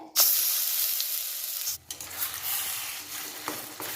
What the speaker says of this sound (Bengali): ঘিয়ের মধ্যে দিয়ে এগুলো বেশ একটু নাড়াচাড়া করে ভেজে নিতে হবে